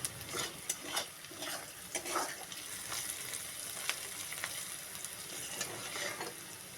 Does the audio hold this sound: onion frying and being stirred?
yes